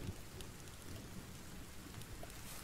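Steady rain from a thunderstorm in the survival game The Forest, a continuous hiss of falling drops with low rumbling underneath, moderately loud and with no voices.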